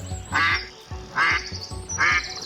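A large duck quacks three times in an evenly spaced series, each call loud, nasal and close, separated by short pauses.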